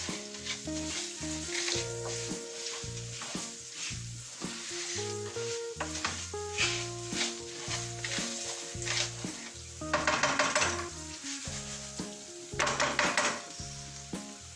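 Saffron paella rice sizzles in a pan as it is stirred, with a continuous frying hiss, scraping spoon strokes and occasional clinks of utensil on metal, all close up.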